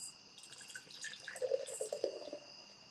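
Oktoberfest beer hard-poured into a glass, a faint splashing and gurgling of liquid that swells in the middle and then eases off, heard alone without talk.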